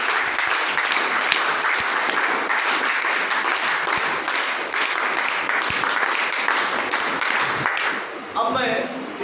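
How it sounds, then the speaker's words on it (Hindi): Loud, sustained applause from participants at a goat-farming training session, a dense, steady wash of many hands clapping throughout, thinning slightly near the end. "अब इनके लिए जोरदार ताली बजाएंगे क्या?"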